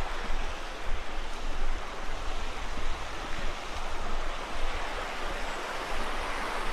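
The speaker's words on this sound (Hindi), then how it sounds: "ये यहाँ से नदी बह रही है सामने से" Steady broadband rush of a river flowing beneath the Patharkhola stone bridge in an Uttarakhand village, a continuous even roar of moving water close by with no voices.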